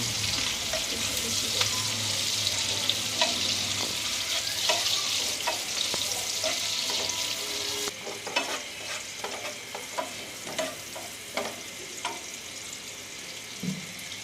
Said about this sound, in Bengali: তো এটার মধ্যে কিছুটা তেল দিলাম, পেঁয়াজ কাঁচামরিচ দিলাম, ভালো করে একটু নেড়ে নিতেছি।